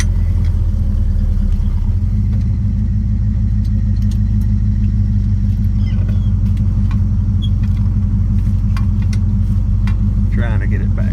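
A 1967 car with a troublesome master cylinder idles and creeps in reverse into a parking spot, a loud steady low engine rumble throughout with faint background noises.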